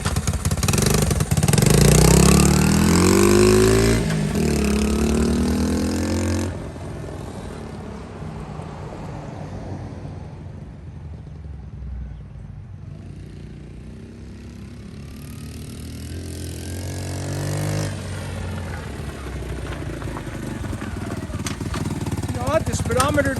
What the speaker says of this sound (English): this might be the best running Trail 70 that I've ever had for the original engine